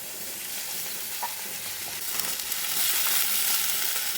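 Onion with ginger-garlic paste frying in a pan for a prawn snack, a steady soft sizzle with occasional stirring scrapes, growing slightly louder toward the end, no voices.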